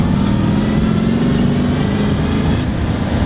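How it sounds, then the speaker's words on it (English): A 1967 Shelby GT500, a restored barn find, pulls through a third gear roll-on with a loud, steady engine drone heard from inside the car, holding evenly throughout without talk. "That was just a third gear roll-on"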